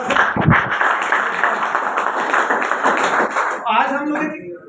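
Dense clapping from an audience at a networking-business seminar in India fills most of the clip, fading out at the end as a voice begins speaking.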